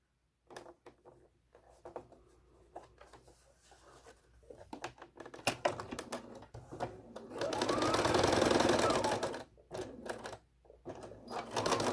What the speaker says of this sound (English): And then you're going to sew that last final seam, joining the 6 points together